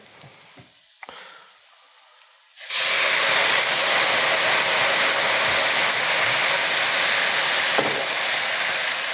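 Dry Chardonnay wine poured into a hot risotto pan bursts into a loud, steady hiss of steam and sizzle after a couple of quiet seconds, holding strong and unbroken to the end.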